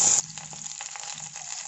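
Curry leaves frying in hot oil with mustard seeds and cashews for vermicelli upma, giving a brief loud burst of sizzle at the start that settles into a steady, quieter crackling sizzle.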